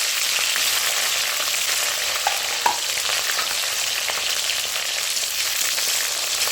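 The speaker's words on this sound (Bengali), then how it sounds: "ওই তেলেই আমি উচ্চাটি ভেজে নেব।" Bitter gourd pieces (karela) frying in hot oil for shukto make a steady, close sizzle with a faint clink or two, with no voices.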